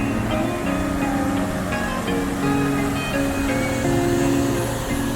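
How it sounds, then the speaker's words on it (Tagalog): A strong waterfall current roars in a constant, loud, dense rush of falling water with no pauses, heard up close at the falls. "Kasi sobrang lakas ng agos."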